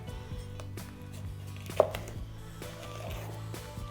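A knife chops red bell pepper on a cutting board in a home kitchen with quiet, irregular taps at close range over a low steady hum.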